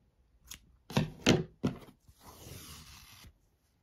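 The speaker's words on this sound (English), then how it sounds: "Then I'm going to cut my yarn, leaving quite a long tail for sewing" Scissors snip through yarn in several crisp, close cuts, followed by a softer rustling scrape as the yarn is handled, with no talk.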